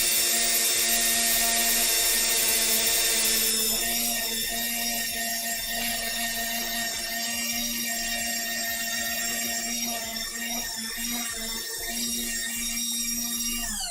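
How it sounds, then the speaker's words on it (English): A Dremel rotary tool grinds a cosplay corset piece with a steady high-pitched whine that holds nearly unbroken for the whole stretch, loud and close. "I'm gonna just take my Dremel on it real quick."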